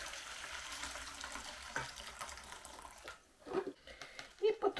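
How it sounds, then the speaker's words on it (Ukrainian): Potato cooking water pours out of a pot in a kitchen as a soft, steady watery rush, then fades into quieter splashes and trickles. "зливаємо картопляний навар."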